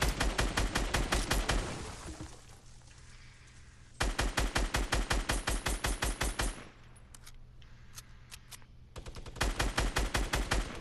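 Video game gunfire shooting down trees, coming in rapid bursts of loud automatic shots separated by short pauses.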